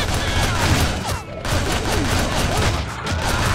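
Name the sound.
gunfire in the video game Shank 2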